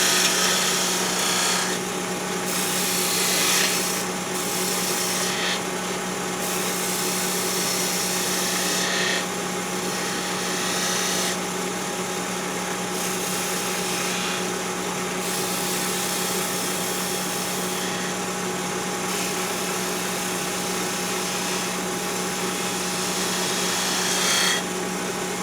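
A wood lathe turns a peppermill blank while a tool cuts with bevel contact, giving a steady broadband scraping and hiss over a constant motor hum, with the cutting noise swelling and easing in repeated passes; no talk is heard.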